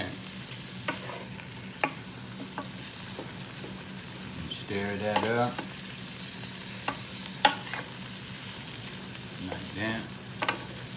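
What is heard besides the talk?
stirring shrimp alfredo cooking in a Power XL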